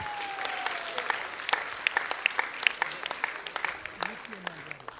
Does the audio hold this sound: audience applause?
yes